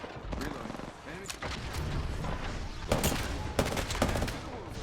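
Rampart's minigun in Apex Legends, firing amid game battle noise: sustained gunfire with louder bursts and impact cracks, with a person's voice at times.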